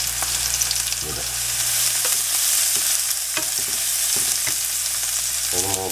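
Koorka (Chinese potato) with chilli powder fries loudly in a pan, a continuous sizzle broken by a series of spoon scrapes and taps as it is stirred.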